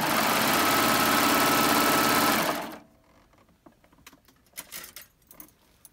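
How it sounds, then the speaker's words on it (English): Serger sewing machine serging off the end of a seam while sewing shorts, a loud, fast, steady whir for a couple of seconds that stops abruptly, followed by quiet fabric handling and small clicks. "gently kind of pivot the fabric to the back, just really gently, and then serge back off the seam"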